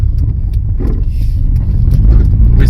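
A turbocharged Toyota GT Starlet is driven, its engine droning loud and close from inside the car as it pulls along.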